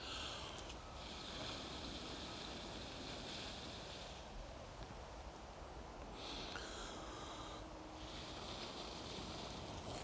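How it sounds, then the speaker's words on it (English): Someone gently blowing into a tinder nest lit with flint and steel to make fire: two long, soft, breathy gusts of air close to the mic, separated by a short pause, fairly faint overall. "we can start gently blowing into this nest"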